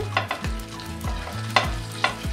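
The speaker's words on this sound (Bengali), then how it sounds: "প্রত্যেকটা পরোটা আমি ঘি দিয়ে ভেজে নেব।" An aloo paratha fries in melted ghee, a close sizzle broken by scraping stir strokes and soft clinks repeating at a steady pace, while a low tonal hum sweeps underneath.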